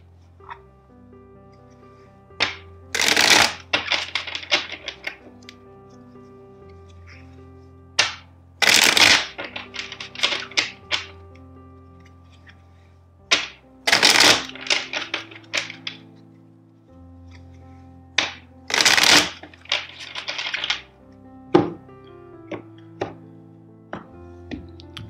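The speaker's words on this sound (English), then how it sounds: "let's shuffle the deck four times" A deck of tarot cards is shuffled in several separate bursts of crisp riffling and flapping, each lasting a second or two and set apart by quiet pauses with small taps and slides of the cards.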